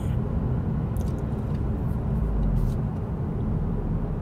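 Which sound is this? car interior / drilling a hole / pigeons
car interior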